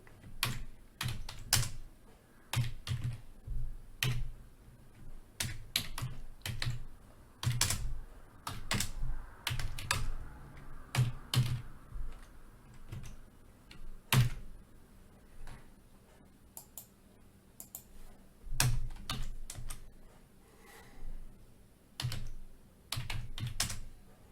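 Steady bursts of typing on a computer keyboard while writing ASP.NET Core Web API code, close and clear, with irregular clicky runs and brief pauses and no talking.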